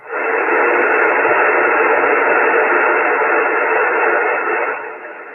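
Loud, steady shortwave static on the 17-meter band hisses continuously, a dense band of noise with slight shifts as the dial moves, fading somewhat at the end.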